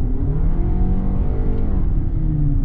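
A Toyota Crown sedan hybrid engine in sport mode pulls under throttle, giving a loud, steady low rumble with a smooth tone from the cabin and no voices.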